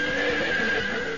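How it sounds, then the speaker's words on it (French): Horse neighing in the Point Blank 2 PlayStation video game, one loud, close whinny held for about a second, alone with nothing else heard. "Ah oui, c'était un cheval"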